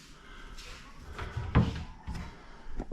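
A wardrobe door on a soft-close hinge in a building cabin swings shut with a muffled thud that eases to a stop, followed by a few softer knocks and handling noises nearby.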